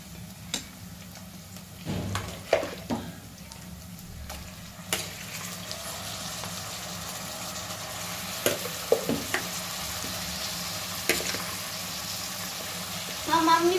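Chicken pieces frying in a pan over sautéed onions for spinach pulao, with a steady sizzle and scattered clicks and scrapes of stirring throughout, moderately loud and close, with faint background voices at moments.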